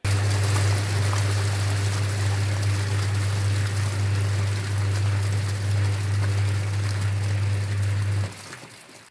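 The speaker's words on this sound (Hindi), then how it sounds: "आप मशीन को चला दें थोड़ी देर के लिए," A washing machine runs, churning a mix of water, salt and detergent in a loud, steady sloshing rush over a low motor hum that cuts off near the end.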